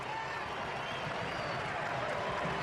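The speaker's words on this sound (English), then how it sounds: "The German faithful in the crowd erupt" Broad, steady roar of German fans cheering in a stadium crowd at a World Cup football match, dense and continuous at moderate loudness, with a commentator's voice over it.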